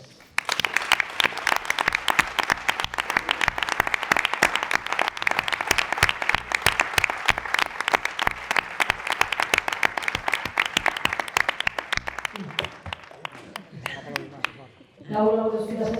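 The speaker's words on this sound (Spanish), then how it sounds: "queremos dedicarle un fuerte aplauso a todas ellas" An audience gives strong, sustained applause to emergency workers after a flood disaster, dense and even clapping that fades near the end before a voice begins speaking.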